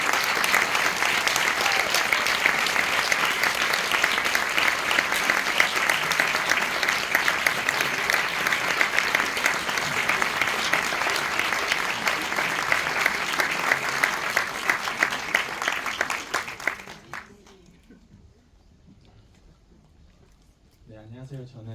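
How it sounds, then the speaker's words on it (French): Audience in a Paris cinema at the Korean Film Festival applauds to welcome a director, a loud, dense, sustained ovation lasting about seventeen seconds before dropping abruptly to near silence. "je vais vous demander de l'accueillir sous un tonnerre d'applaudissements"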